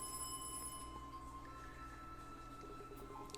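A telephone rings in a detective video game, a steady electronic ring with sustained tones over a low constant hum, with no voices.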